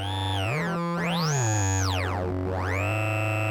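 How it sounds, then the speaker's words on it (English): A modular synth oscillator pitched an octave lower drones with a harsh, gritty buzz, its pitch sweeping up and down in glides before settling, loud and continuous with no voices. "For this very nasty and gritty sound."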